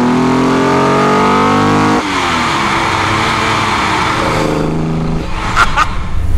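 A 1972 Holden XU1 Torana race car engine revs hard and loud, dropping into a lower gear partway through with a throaty burble, then climbing again with rising, rasping pitch sweeps.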